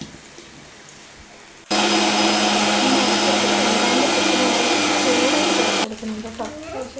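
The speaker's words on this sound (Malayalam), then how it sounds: "നമുക്കിതൊന്ന് അരച്ചെടുക്കാം കേട്ടോ." A mixer grinder grinds dosa batter, a steady loud whirring roar that starts abruptly, holds for about four seconds and then cuts off, with quiet talk before and after.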